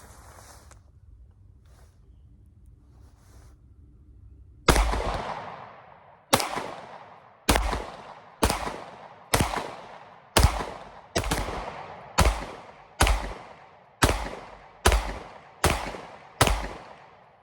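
A pistol fires a string of sharp, loud shots at a 10-yard range, evenly spaced about every second, after a few quiet seconds of low background sound; the handgun is a Glock 19 or Sig 229 Legion.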